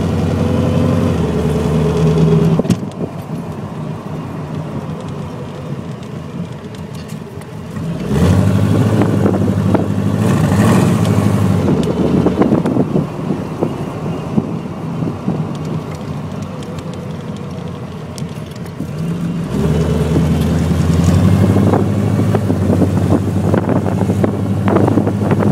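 A 1922 hot rod drives along, its low engine drone nearly buried under heavy wind buffeting on the microphone, with the rumble dropping away briefly and then surging back.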